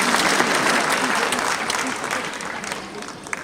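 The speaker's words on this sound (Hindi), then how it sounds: "आप सबके लिए एक जबरदस्त तालियां" Dense, loud applause from a large audience fills a stadium venue during a live training event, a continuous wash of clapping that tapers slightly toward the end.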